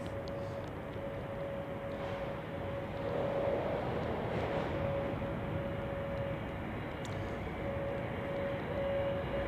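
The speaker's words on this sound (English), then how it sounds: "here we have the A321 Neo going to Stockholm" An Airbus A321neo airliner departs Zurich Airport for Stockholm during a storm. It makes a steady, distant jet roar with a faint whine, holding even for the whole stretch, with no voices.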